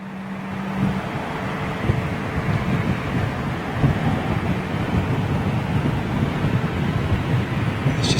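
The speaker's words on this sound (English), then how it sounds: "That's Qatar starting his engines" A Qatar Airways airliner starts its jet engines at London Heathrow, a steady broadband roar and rumble heard from a distance, blended with wind buffeting the microphone throughout.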